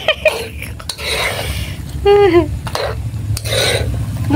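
Shrimp adobo being stirred in a pan, a scraping, sizzling sound with a brief tonal squeak midway, under an ongoing background murmur.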